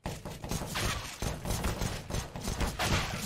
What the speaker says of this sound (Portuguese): Que isso, o Vini atira